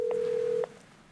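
A phone call is being placed, with a steady electronic line tone holding for about half a second before cutting off, followed by quiet.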